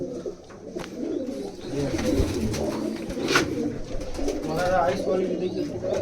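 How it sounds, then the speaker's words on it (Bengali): A female Rampuri pigeon in a loft coos in low, throaty rolls mixed with a few chirps, close by, while someone talks over the calls. "ফিমেল বার্ডটা দেখো বন্ধুরা ফিমেল কবুতরটা দেখো"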